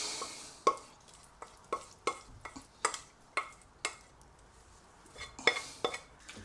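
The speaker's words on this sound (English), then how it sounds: "just bang it into this pan like this with the onions and the green beans" Onions and green beans being stirred in a frying pan, with a series of sharp utensil scrapes and knocks against the pan at an irregular rhythm over a faint sizzle, close and fairly loud.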